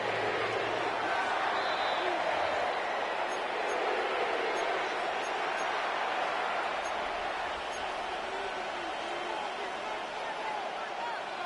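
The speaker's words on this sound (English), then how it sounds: "This crowd turning up the decibel level." Stadium crowd noise from a Madden 26 football game in an XFL Panthers matchup, a steady dense roar of cheering and babble that holds at an even level throughout the stretch.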